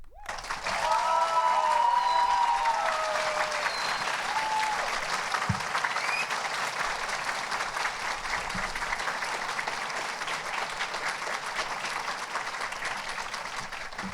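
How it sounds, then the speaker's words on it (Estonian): An audience at a school graduation ceremony in Tallinn applauds steadily and loudly for the whole stretch, a dense wash of clapping that barely fades, with no one speaking. "Ja 9. D plaksutab veel muidugi kõvasti kohe."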